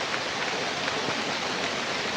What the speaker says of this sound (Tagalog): Grabe, lakas ng ulan oh